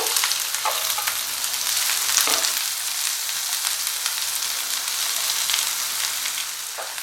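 Chopped onions sizzling in hot oil with coriander and cumin seeds, a steady close frying hiss with occasional stirring scrapes throughout.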